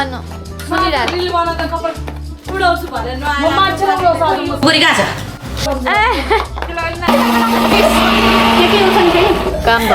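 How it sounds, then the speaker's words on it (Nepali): An electric mixer grinder whirs loudly near the end, preceded by music and people talking over a humming background. "मिक्सर जोइन गर्नु न."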